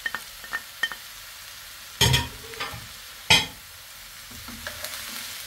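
Root vegetables sautéing in a pan for a mildly spicy pasta sauce: quiet sizzling broken by a few clinks and two sharp bursts of stirring and scraping against the pan.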